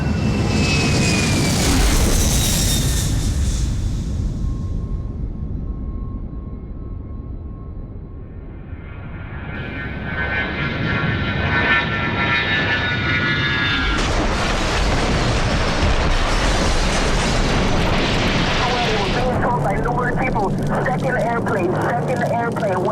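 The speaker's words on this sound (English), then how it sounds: "2nd airplane went in on the other side of the World Trade Center" A second jet airliner flies into the other side of the World Trade Center: a loud, close engine roar that swells, dips and surges again, with people talking over it.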